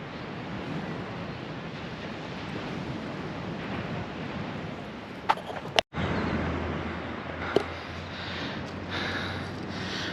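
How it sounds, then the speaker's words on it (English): Ocean waves wash steadily onto a Florida beach at Panama City Beach, making a continuous broad surf roar with a couple of brief knocks near the middle and no talking. "Listen to those waves."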